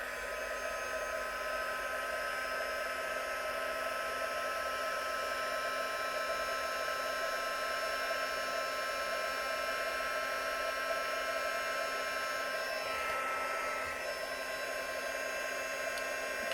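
A heat embossing tool blows hot air over a stamped card, giving a steady, loud whooshing fan roar that holds constant for the whole stretch with no talking.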